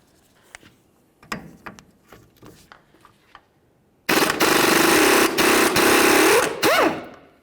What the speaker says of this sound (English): On the forward side, we're going to use a 21mm socket to remove the nut and then fully remove this bolt as well.